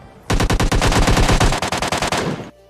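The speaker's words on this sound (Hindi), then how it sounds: "तभी खतरनाक गोलियों की आवाज आती है यार" Sustained automatic gunfire in a video game: a loud, rapid burst of shots lasting over two seconds, with a slightly stuttering rhythm near the end before stopping abruptly.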